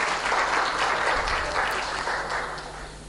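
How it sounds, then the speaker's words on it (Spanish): Applause for Christopher in a Sunday church service, a full room clapping loudly and steadily for about three seconds before easing slightly. "Un aplauso para el Christopher, por favor."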